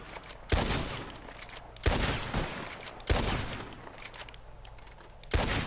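Gunshots in the western game Red Dead Redemption 2: four or five loud, spaced single shots with echoing tails, each cracking out sharply over a quiet background.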